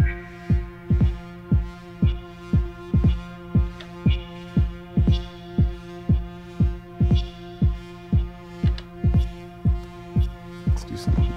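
A kick drum with a pitch effect applied thumps in a steady, evenly spaced pattern, each beat a deep resonant boom over a sustained hum, repeating about twice per second throughout with no talking.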